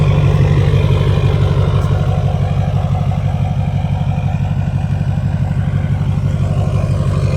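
Low, throbbing rumble of a diesel pickup with new up-pipes and down-pipe idling steadily nearby, exhaust weak on one side, with a regular pulsing beat and no talking.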